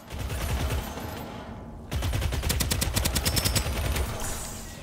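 Automated turret in Starsiege Deadzone firing rapid bursts of gunfire, a dense rattling stream then a fast regular run of shots, moderately loud with no talk.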